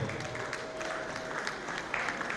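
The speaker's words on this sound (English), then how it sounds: "Please, a round of applause for them" A hall audience gives the ESCO staff a round of applause, steady dense clapping filling the room from start to finish, with a faint tone beneath it.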